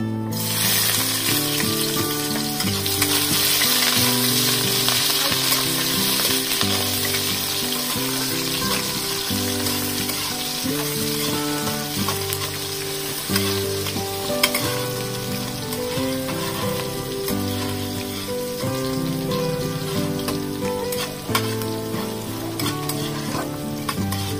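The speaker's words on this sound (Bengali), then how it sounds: "পেঁয়াজটা একটু ভাজা ভাজা হয়ে গেলে তারপর টমেটো দেব।" Onions frying in oil in a kadai with cumin seeds and whole garam masala, a steady loud sizzle with stirring scrapes throughout, alone with no talk.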